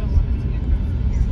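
Low, steady road rumble and engine drone fill the cabin of a moving car, an even hum with no breaks over the short stretch.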